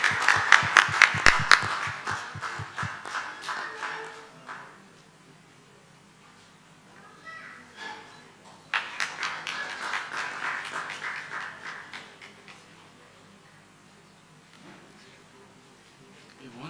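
A conference audience breaks into applause for an undergraduate student, first crisp rhythmic clapping, then a second burst of scattered claps later, with quiet room hum and faint talk between.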